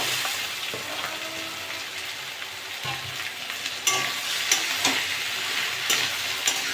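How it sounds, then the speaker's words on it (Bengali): Okra frying with onions in a pan, a steady close sizzle with intermittent scraping and clinking as the pieces are stirred and tossed, no talking. "ভেন্ডিগুলো ভাজবো ভালো করে"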